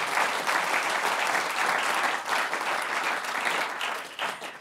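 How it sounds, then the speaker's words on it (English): Conference audience applauding panelists at an economic forum session, a sustained even wash of clapping from a large hall, fairly soft and distant. "please give a big round of applause to my wonderful panelists"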